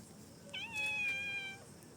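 A cat meows once, a clear drawn-out call lasting about a second, while playing with a snake it has caught; fairly close and alone, over a quiet background.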